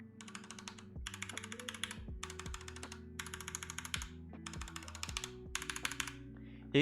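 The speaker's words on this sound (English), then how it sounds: "You can kind of hear that the Doubleshoot keycaps are way more loud and they're like more clicky" Typing on a keyboard fitted with doubleshot ABS keycaps, crisp clicky keystrokes in quick bursts separated by short pauses, close and fairly loud.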